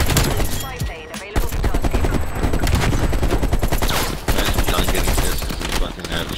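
Dense, loud gunfire from the video game Call of Duty Cold War, rapid bursts and overlapping shots in a near-continuous barrage with brief gaps, and a player's voice mixed underneath.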